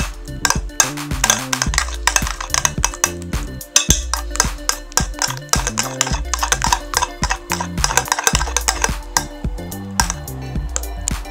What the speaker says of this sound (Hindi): अब इसमें मिक्सचर को हमको अच्छी तरीके से मिक्स कर लेना है।